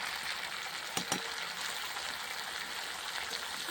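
Pumpkin frying with spices in a pan on a clay stove, a soft, steady sizzle with a couple of sharp clinks from stirring, faint and constant.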